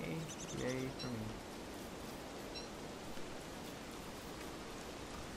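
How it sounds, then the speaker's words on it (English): Steady rain hisses through a level wash of noise in the video game Don't Starve, with a few faint bird-like chirps and tones near the start, under brief talk. "And it's raining."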